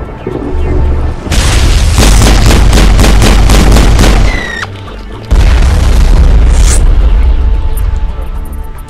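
Gunfire in the video game Mass Effect: loud, rapid bursts of automatic shots with deep booming impacts, two sustained volleys separated by a brief lull, close and dominating the mix.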